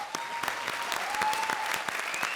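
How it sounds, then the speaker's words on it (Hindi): A studio audience at a comedy show applauds, a dense, steady burst of clapping from many hands filling the short stretch with no speech over it. "एक बार फिर से जोरदार तालियां."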